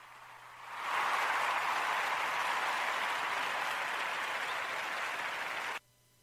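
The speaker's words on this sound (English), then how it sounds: "I'm going to give you this applause on that one" Applause from an audience during a show, building quickly to a steady dense roar of clapping that holds for several seconds and then stops abruptly, with no talk over it.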